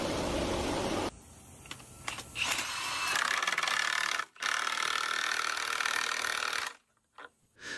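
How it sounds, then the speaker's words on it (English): A rice husking machine stripping husks from grain gives a loud, harsh mechanical racket with rattling and grinding, broken by a few short drops and pauses. "The machine sucks in the raw harvest, and through a violent, noisy process, strips away the inedible husk."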